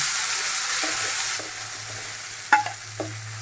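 Ground mustard paste with nigella seeds and spices fries in a pan for a vegetable dish. A low, even sizzle runs throughout, and a couple of sharp spatula knocks against the pan come near the end.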